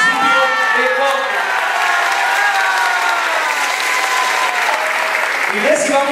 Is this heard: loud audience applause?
yes